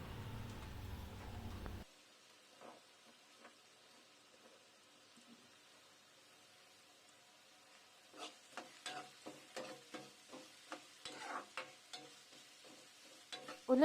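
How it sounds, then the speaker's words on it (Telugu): Thinly sliced onions frying in a pan for biryani rice: a faint steady sizzle, then a series of scraping stirs in a rhythmic run toward the end, close and soft, with no talking. "ఉల్లిపాయలు లైట్ పింకిష్ అయ్యేదాకా మనం బాగా ఫ్రై చేసుకోవాలి."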